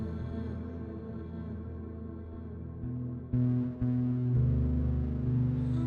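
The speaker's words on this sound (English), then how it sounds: "Love that distortion on there." Music from an album, with heavily distorted, effects-laden tones, plays continuously, growing louder and fuller partway through.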